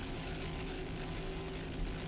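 Helicopter flying over a sailing race off Key West during a world championship, a steady, continuous rotor and engine drone holding at an even level throughout with no voices.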